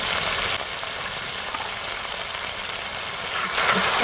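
Ground spices (coriander, cumin and Kashmiri chilli powder) fry together in a pan for a cabbage and chickpea curry, giving a steady, even hiss that swells slightly at the end.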